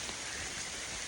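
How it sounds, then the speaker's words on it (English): Steady rain pours down on a solo backpacking hike in the Adirondack Park woods, a dense, even hiss of drops close all around with no voices. "I don't mind hiking in the rain"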